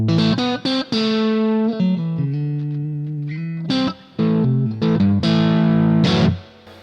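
Electric guitar drives a Boss MS3 classic channel at about 80% gain, with crunchy picked notes, sustained bends and punchy chord stabs, loud and close, ending on a ringing chord that fades, no talking.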